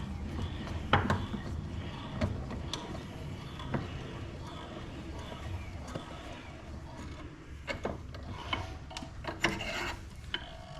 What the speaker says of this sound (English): Alright, so typically what I do at this point, I try to grab this piece with my vise.